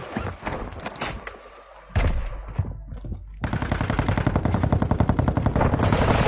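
Video game gunfire rattles out in loud automatic bursts, first a few scattered shots and thuds, then a sustained rapid machine-gun stream that runs to the end.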